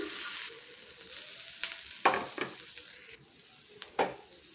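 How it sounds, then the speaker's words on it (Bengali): Grated coconut dry-roasts without oil in a pan (kadai) over low gas, a faint, steady sizzling hiss broken by several scraping stirs of a spatula, close and alone. "গ্যাস আস্তে দিয়ে নারকলটা ভেজে নেবো লাল করে, করে নেড়ে আস্তে আস্তে লাড়তে থাকবো"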